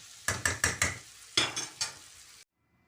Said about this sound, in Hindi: थोड़ा सा भून के फिर 5 मिनट दम पे रख दूँगी।